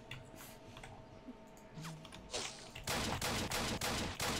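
Gunfire in the Apocalypse Rising video game, scattered distant shots followed by a loud, close burst of rapid automatic fire in repeated bursts.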